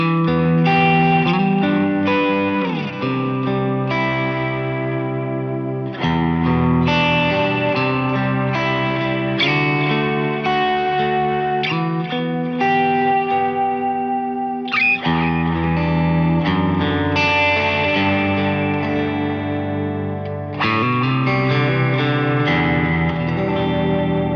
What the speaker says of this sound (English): So you get like massive delay and reverb sounds like this.